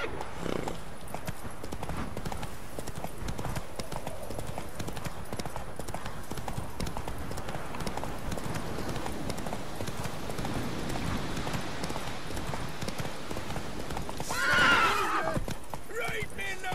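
Roach, a horse in The Witcher 3, gallops with rapid, steady rhythmic hoofbeats that continue throughout. A loud neigh rises clearly near the end, and a voice speaks briefly over the galloping.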